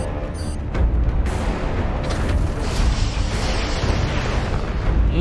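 Missiles launch and explode in a space battle from the TV show The Expanse, heard as a dense, loud, sustained rumble of blasts and booms with a sharp burst at the start.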